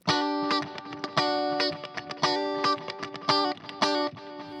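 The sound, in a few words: electric guitar through Fryette Cyclops amp with delay effect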